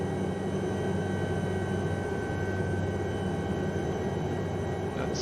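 Lama SA315 helicopter flying in strong winds, a steady droning engine and rotor hum with constant buzzing tones and broadband wind rush, close and unbroken with no talking.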